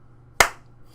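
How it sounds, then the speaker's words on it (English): A single sharp hand clap into a microphone, close and loud, with a short decaying tail fading into a low steady hum. "when you clap your hands, it isn't always just 1 pixel wide"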